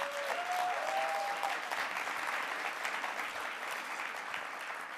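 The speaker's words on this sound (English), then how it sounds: "So let's give her a round of applause." An awards-gala audience at a Times Square hotel applauds steadily and densely for several seconds, with a brief tonal whistle at the start.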